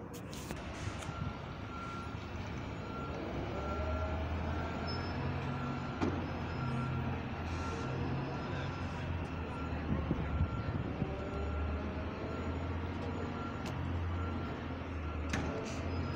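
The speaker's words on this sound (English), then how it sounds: "See the motors on the B5LH, man. They're interesting. I've never heard that on a bus before in my life." Volvo B5LH hybrid bus motors whirring in a steady tonal drone inside the bus, with a persistent reversing-style beep and low rumble throughout, no talking.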